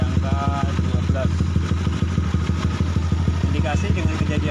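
A Honda Sonic motorcycle engine runs steadily with a rapid, even pulsing throb that sputters at certain rpm, close and loud throughout, with faint voices in the background.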